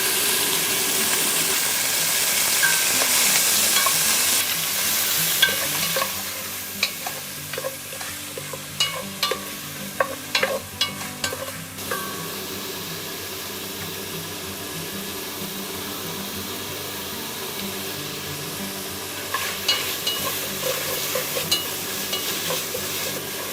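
Steady sizzling of beef frying in sesame oil in a pot, with bursts of stirring and scraping clatter in the middle, continuing for a long stretch without talk.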